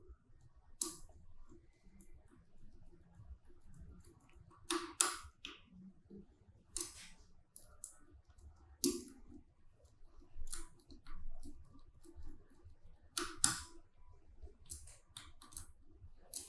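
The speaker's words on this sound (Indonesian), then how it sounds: "Jika sudah bisa mudah diputar, silahkan kencangkan kembali." Gearbox of an ICHIBOT DC gear motor from an ICHIBOT Ultimate 5 Max robot being tightened by hand, giving close, sporadic plastic clicks and sharp taps scattered over a faint background.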